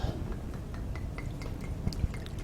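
White wine trickles and splashes softly into a measuring cup in a home kitchen, a faint, gentle pour with a few small drips near the end.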